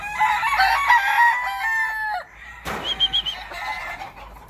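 A white rooster crows loudly and close by in one long drawn-out call, then a brief pause and some softer clucking and rustling follow.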